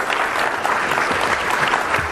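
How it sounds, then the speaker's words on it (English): Loud, dense applause from a conference audience fills the room for a panel on strategic operational risk, steady throughout with no break. "Let's give them a round of applause."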